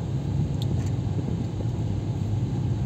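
A car cruising along a road on Russell Island, its steady low rumble of engine and tyre noise continuous and close throughout, with no talk.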